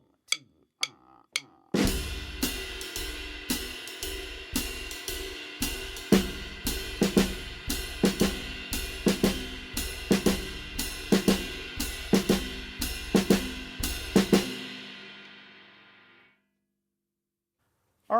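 Jazz swing pattern on snare drum and bass drum, beginning with a few sharp count-in hits and then settling into a steady swinging groove with regular accented strikes over a sustained ride-like wash, close and moderately quiet, ending in a fade.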